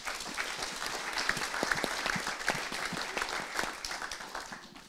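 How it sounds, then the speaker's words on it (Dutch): An audience at a journalism symposium claps for a panelist called to the front, a lively round of individual sharp claps swelling and easing with a faint crowd murmur. "Graag een applaus voor Bjorn Oostra."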